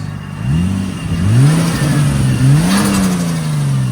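A 1999 Nissan Skyline R34 2.6L twin-turbo engine with a raspy straight-pipe exhaust revs repeatedly, pitch rising and falling in waves, loud and close.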